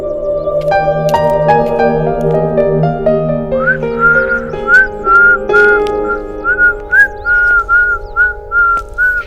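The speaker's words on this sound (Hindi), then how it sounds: "तुम मुझे बिना देखे ही सीटी मारने लगी" A clear whistled melody, loud and close, opening on a few sustained tones and settling into a repeated rising chirp-like phrase, with no talk over it.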